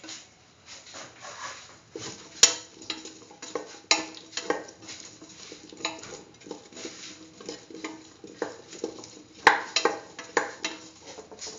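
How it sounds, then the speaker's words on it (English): Salt being mixed into a pot of potato, chayote and coconut milk rice, with repeated scraping and clinking of a spoon against the pot in an irregular rhythm, close and fairly quiet, no talk. "Salt and mix thoroughly."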